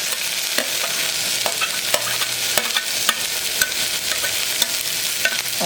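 Onions with rock salt frying and being stirred in a pan for mutton kuzhambu, a steady close sizzle with repeated sharp scraping clicks of a spoon against the pan.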